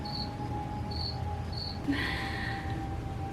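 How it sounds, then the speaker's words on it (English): Insects chitter in a steady, dense buzz, with short high trills repeating at a regular pulse before a brief rustling swell, close and continuous with no voices. "The insects chittered, and he spasmed and moaned."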